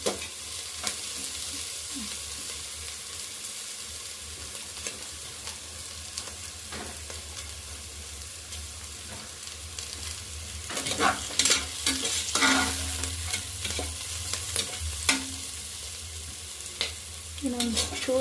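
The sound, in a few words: frying ingredients in a pan for soya pulao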